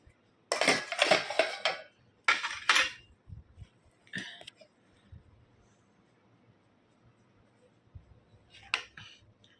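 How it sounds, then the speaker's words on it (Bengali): Rice is served onto a plate with utensils: several close metal clinks and scrapes come in quick clusters early on, then a few sparse taps in a quiet room. "তো ভাতটা বেড়ে ফেলি"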